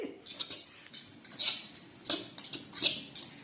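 A spoon stirs soya chunks curry in a pan on a hostel stove, a string of quick light metallic clinks and scrapes at an uneven rhythm, close and fairly faint.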